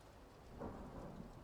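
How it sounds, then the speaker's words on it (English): Faint, low thunder rumble used as a background texture layer in a beat, soft and distant with a brief swell in the middle, wrapped in a rain-like hiss. "it's just thunder."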